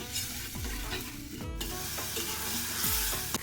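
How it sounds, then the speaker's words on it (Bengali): Chili spice paste sautés in a pan, with prawns and mango cooking alongside, sizzling steadily while a spatula scrapes and stirs in several sweeping strokes. "মরিচ মশলাটুকু আর একটু ভালো করে কষিয়ে নিল"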